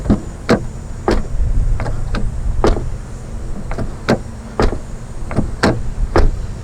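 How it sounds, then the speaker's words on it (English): Passenger door of a 2017 Honda Ridgeline shoved hard to close it: a series of sharp, close knocks and thuds at uneven intervals against a low, steady background. "I'm trying to close the passenger door."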